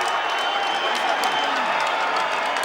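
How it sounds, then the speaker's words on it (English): Media people and the arena crowd applaud at the end of the 2005 Diego Corrales vs. Jose Luis Castillo boxing fight: a continuous, dense wash of clapping and crowd roar throughout, with speech mixed in. "First time I've ever seen media people applauding at the end of a fight."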